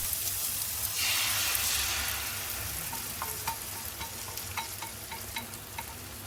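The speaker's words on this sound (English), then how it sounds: "The eggs go into the pan." Eggs hit a hot pan and sizzle, a loud burst of frying hiss at first that settles into softer crackling with scattered pops.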